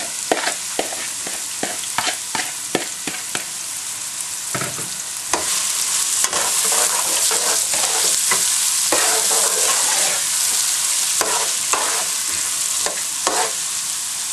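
Onions sizzle and crackle steadily in a hot pan with cinnamon and bay leaves for a curry, with frequent sharp scraping and clattering of a utensil stirring them.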